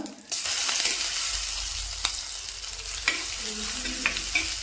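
Crushed ginger, garlic and curry leaves frying in oil in a pan for a bitter gourd curry, a steady close sizzle broken by a few sharp stirring scrapes and taps.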